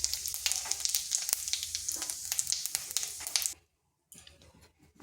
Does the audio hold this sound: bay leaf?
yes